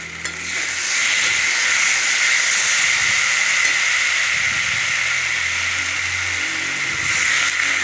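Water poured into a hot pan of potatoes and spices for a vegetarian soybean dhoka, giving a loud, close, continuous hiss and sizzle that holds steady for several seconds.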